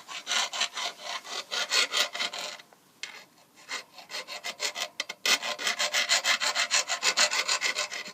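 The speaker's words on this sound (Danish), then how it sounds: "Og så skal du file den her, hvor pedalen sad på, så boremaskinen kan sidde på." A hand file rasps back and forth on a bicycle crank where the pedal was mounted, close, loud rhythmic strokes in quick succession with a short pause partway through.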